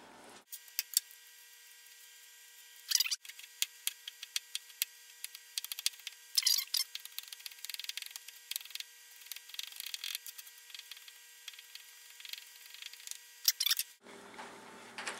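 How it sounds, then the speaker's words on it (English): A knife chops onions and garlic on a cutting board in a home kitchen, giving quick, irregular clicks and taps close by against a quiet background, with no talking. "Now that we've cut up our onions and garlic"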